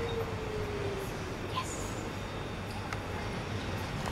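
A DLR train in London rumbles steadily through a station in a continuous low hum, with faint high squeals and clicks from the wheels.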